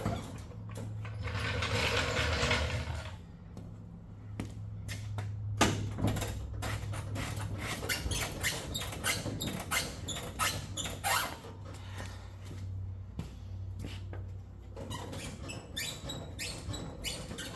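Front suspension of a 1967 Chevy Nova being worked through its travel, giving off repeated creaks, ratcheting clicks and squeaky metallic scraping in irregular bursts over a steady low hum, close and clear with no talking.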